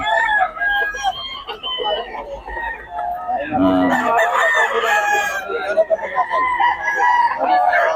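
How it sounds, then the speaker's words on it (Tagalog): A chicken clucks and squawks loudly nearby in agitated bursts at a poultry sale in Bocaue, with a rooster-like crow in the middle; people talk in the background. "Gulo nitong manok."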